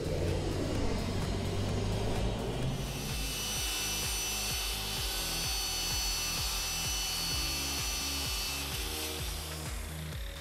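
A saw cuts an FRP panel along a clamped wood trim guide, a steady, close, rasping stroke that continues throughout with no talking.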